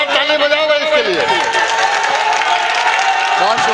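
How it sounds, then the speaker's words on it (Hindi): Applause from the audience at a mushaira poetry gathering, a broad wash of clapping and cheering running under a loud voice that dominates throughout. "जोरदार ताली बजाओ भाई इसके लिए।"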